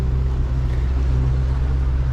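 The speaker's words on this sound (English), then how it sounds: "So the engine is running nice and sweet" A small fishing boat's engine runs smoothly on a mackerel trip, a loud, steady low throb with an even rumble throughout.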